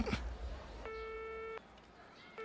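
After a mobile call is cut off, a steady electronic phone tone sounds for under a second, then starts again briefly, faint against low background noise.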